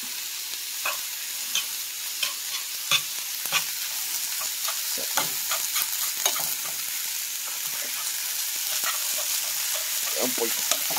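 Shrimp and grits get a final stir in a hot sizzling pan, a continuous close frying hiss punctuated by irregular spoon scrapes and clicks throughout.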